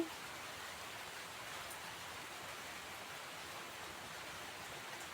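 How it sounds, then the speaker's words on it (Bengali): Water is poured into a banana and potato curry cooking on a stove, a faint steady hissing sizzle that stays even and low for several seconds, with no talking. "তো এই দেখেন আমি এখন ঝোলের পানি দিয়ে দিচ্ছি।"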